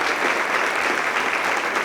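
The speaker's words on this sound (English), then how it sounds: "a nice round of applause for Mr. Schloman and all the hard work he puts in with the students" Warm, sustained applause from parents and students in a school hall at a recorder concert, honoring the music teacher; a dense, even patter of many hands clapping without pause.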